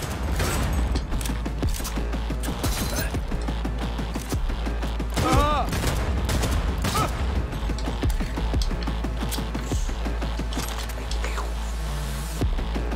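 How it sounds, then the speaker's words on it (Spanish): Sustained gunfire and clattering effects from a Cyberpunk 2077 firefight, loud and dense for the whole stretch, with game sounds layered over a constant low rumble and a brief voice-like burst in the middle. "¡Fuego! ¡Disparad!"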